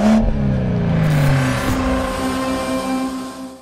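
A car pulls away and drives along a road, its engine a loud, close, steady hum that rises briefly and then settles into an even cruising drone.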